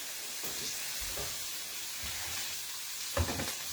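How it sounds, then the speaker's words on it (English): Stuffed portobello mushrooms sizzle steadily in a hot pan with a soft hiss, broken by occasional small pops and crackles, one sharper near the end. "You guys hear that sizzling, popping, and cracking over there?"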